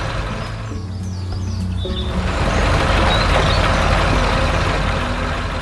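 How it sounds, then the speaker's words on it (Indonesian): A heavy farm truck engine pulling a tiller roars steadily up close, a deep continuous rumble that grows louder and fuller partway through. "Suara mesinnya menggelegar, menggerakkan tanah dengan kuat."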